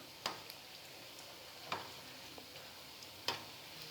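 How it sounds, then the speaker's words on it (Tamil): Paneer bondas deep-frying in hot oil give a faint, steady sizzle, broken by a few sharp clicks and pops. No one speaks. "ரெண்டு பக்கமும் நல்லா பெரட்டி பொன்னிறமாக பொரிஞ்சிருச்சு"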